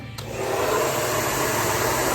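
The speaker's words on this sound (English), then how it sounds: "turn your blow dryer on" A handheld blow dryer running steadily while hair is styled with a round brush at home, a continuous close whooshing hiss that starts with a short click and holds level without pause.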